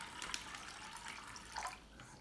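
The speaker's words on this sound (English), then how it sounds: "grab our glass of water, and then we're going to fill it up" Water poured from a glass into a bag, a soft, faint trickle and splash lasting a couple of seconds with small bursts of droplets, close and quiet with no talking.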